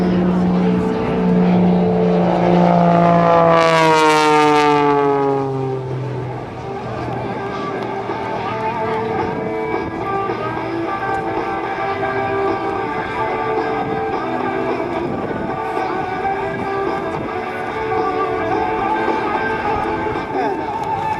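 An Extra 300L aerobatic airplane slipping along during an air show pass, its engine drone rising and falling in pitch early on, then a steady loud roar that continues for the rest.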